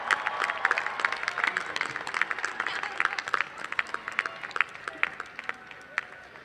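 Graduates at a college commencement ceremony clap for their families and loved ones, a steady wash of crowd applause with dense overlapping hand claps running throughout at moderate level.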